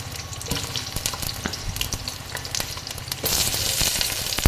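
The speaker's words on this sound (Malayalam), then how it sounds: "അതിലേക്ക് ഉള്ളി ഇടുക." Chopped onions hit hot oil in a pan, setting off a steady crackling sizzle with frequent pops. The frying grows noticeably louder and hissier near the end, with no voices over it.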